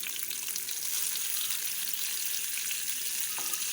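Cumin seeds go into garlic and butter already sizzling in a pan, giving a steady, close hiss of frying that stays even throughout, with no one speaking.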